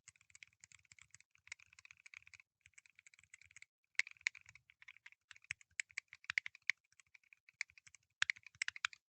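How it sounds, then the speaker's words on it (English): Someone types on a Kinesis Gaming TKO keyboard fitted with tactile Boba U4T switches, producing soft, muted keystrokes in quick irregular bursts, close and quiet, with brief pauses between runs and no voices. "It is crazy how quiet this keyboard is."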